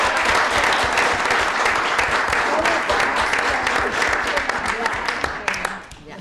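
Meeting attendees break into sustained applause, a loud, dense patter of many hands clapping close by that thins out and fades in the final second, with a voice audible underneath.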